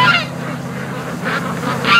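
Several Canada geese honk loudly and close by, a flurry of harsh calls at the start and again near the end, with a low steady rumble underneath, by a lake.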